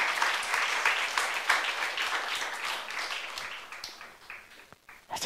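A church congregation claps together in steady, dense applause that holds evenly, then thins and fades toward the end, moderately distant and with no talking over it.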